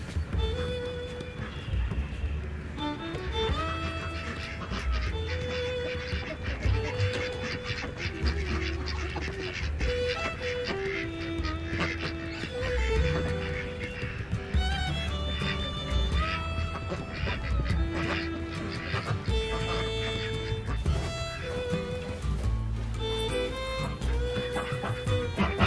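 Ducks and geese on a Wisconsin farm during morning barn chores make a busy, continuous chorus of quacks and honks, close and overlapping, with faint talk in places.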